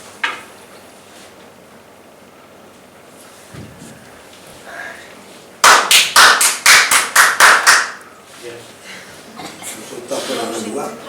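A single person claps about nine times in a quick, loud burst during a council plenary session, between stretches of talking in the chamber.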